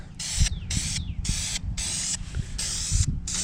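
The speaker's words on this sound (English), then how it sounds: "I'm gonna go ahead and just shoot some light coats of paint on here." Duplicolor low gloss black aerosol spray paint sprayed in light coats on a 1977 Chevy C20 squarebody flatbed, six or so close, loud hissing bursts separated by brief pauses.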